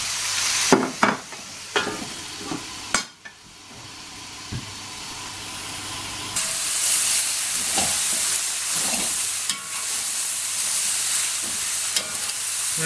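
Lemon and dill chicken with eggplant sizzles steadily in a wok, with a few sharp clanks early on before the lid goes on and a continuous hiss of frying and steam builds and holds.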